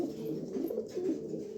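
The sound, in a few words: pigeons cooing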